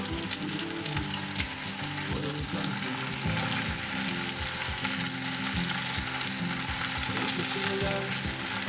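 Onion, zucchini and bell pepper fry in a pan with a loud, dense, continuous sizzle and crackle, with occasional stirring, close up and without talk.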